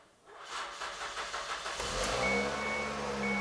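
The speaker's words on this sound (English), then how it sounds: "Next, go ahead and start the vehicle." A 2001–2007 Ford Escape engine cranks with rapid rhythmic starter pulses, then catches and settles into a steady, close idle.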